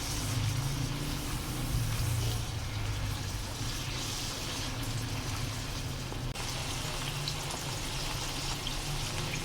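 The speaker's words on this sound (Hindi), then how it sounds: "इसको हमने 1 से 1 मिनट और इसको पकाएंगे, फ्राई करेंगे चिकन को" Chicken sizzling steadily in a pan with garlic ginger paste over a medium-low flame, a dense, continuous frying hiss that fills the whole stretch without pause, fairly close and even in loudness.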